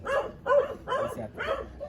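A dog barks four times in a steady rhythm, close and fairly loud, in a dark house in the Philippines. No voices are heard.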